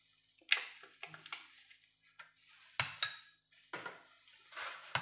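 A spoon stirs yellow mustard sauce in a bowl for a burger topping, making a series of close scraping clinks and taps in uneven bursts against a quiet background.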